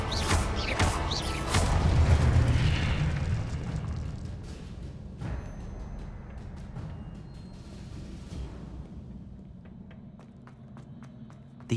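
Spell-blast explosions from Hogwarts Legacy gameplay boom and crash loudly at first with rumbling debris, then fade into a quieter battle scene with scattered impacts and footstep-like thumps.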